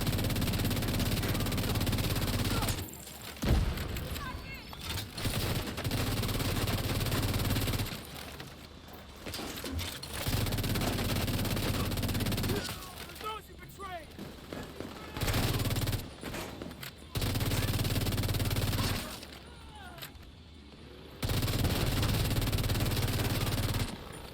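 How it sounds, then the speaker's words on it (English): Sustained bursts of rapid automatic FAMAS rifle fire in The Division 2, a loud near continuous rattle broken by short pauses, with occasional voice underneath. "Yo, the rate of fire on this FAMAS is so nice."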